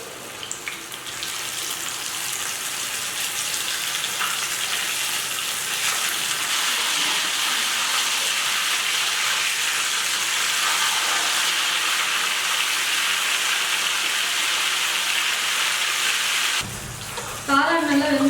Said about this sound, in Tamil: இப்போ காளான்களை பொரிச்சு எடுத்துக்கலாம் வாங்க